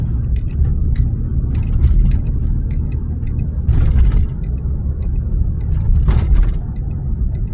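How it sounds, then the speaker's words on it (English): The 608 bus to Ewing rolls along a street in Trenton, a loud, steady low engine rumble with tire noise that swells twice as it passes close by. "There's the 608 bus going to Ewing."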